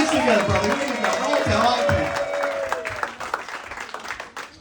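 Audience applause at a comedy club showcase in North Andover, Massachusetts, a dense burst of clapping under a voice that fades over a few seconds.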